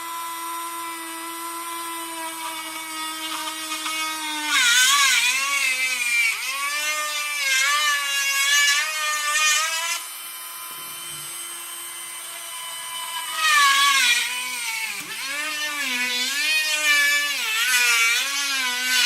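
A power tool drills holes through wooden chopsticks for a rubber band gun, its high, steady whine rising and wavering in two long bursts with a brief lull between, close and loud.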